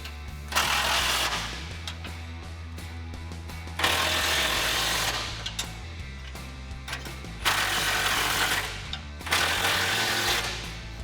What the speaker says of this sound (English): Grab your 19mm wrench and 18mm socket and tighten these down.